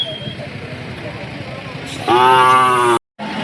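A Khillar bull at a Sangola cattle market gives a loud, close moo lasting about a second, over a bustling background of voices and vehicle noise, followed by a brief cut to silence.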